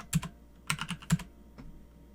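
Keys on a computer keyboard are struck in a few quick, close clicks in small uneven clusters, alone with no talking.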